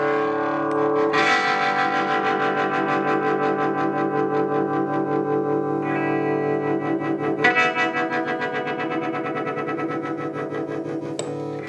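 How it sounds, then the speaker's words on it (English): Electric guitar through a rare vintage 1960s Vox combo amp, an EL84 valve amp with three Goodman 10-inch speakers, its vibrato effect on: sustained chords pulse with a steady rapid wobble, restrummed a few times, loud and close. "The vibrato is working."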